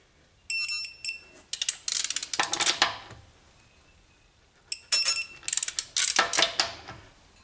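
A torque wrench tightens the wheel bolts on a Volvo S90/V90 to around 140 Nm, giving two bursts of rapid, close ratcheting clicks and metallic taps separated by a short pause.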